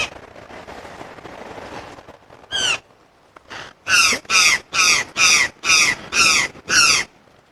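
Wild bird in a Brazilian forest calls loudly with harsh, cawing notes: a couple of scattered calls, then a steady rhythmic series of seven close, strong calls.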